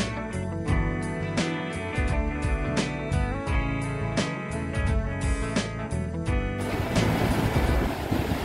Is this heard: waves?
yes